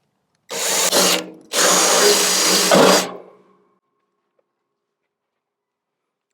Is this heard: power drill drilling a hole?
yes